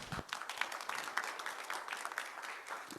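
Light, scattered audience applause at a digital asset and blockchain forum welcomes a speaker to the stage, fairly faint and somewhat distant with individual claps poking through.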